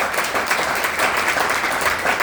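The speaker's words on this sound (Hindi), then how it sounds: "Give a clap offering to Jesus." A church congregation applauding during a worship service, a dense, steady wash of many hands clapping together with no speech over it.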